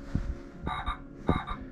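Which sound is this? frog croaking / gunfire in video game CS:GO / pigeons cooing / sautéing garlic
frog croaking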